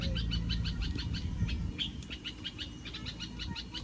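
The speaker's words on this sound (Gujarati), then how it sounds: "ચકલી." A sparrow chirps in quick repeated bursts on a rainy day on a road trip from Rajkot to Matel, the bright calls standing clearly above a low rumbling background.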